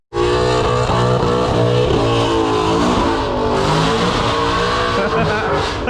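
Ford Mustang pulling hard at wide open throttle on a highway: loud, close engine roar with a rising, then shifting pitch that holds for nearly six seconds and starts abruptly, with a voice audible under it.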